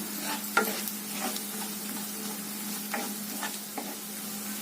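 Cluster beans with homemade red masala are sautéed in a pan, giving a steady close sizzle broken by several distinct spoon scrapes and stirring strokes, with no voices.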